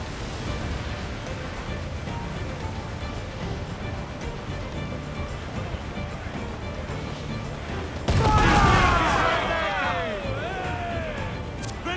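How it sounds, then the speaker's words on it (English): Mortar fire in Assassin's Creed IV Black Flag bursts out as a loud boom partway through, followed by whistling, splashing debris over a steady sea-and-wind bed, with character voices around it. "They're firing mortars!"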